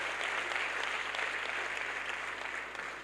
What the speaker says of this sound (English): I think His Excellency deserves our applause for that.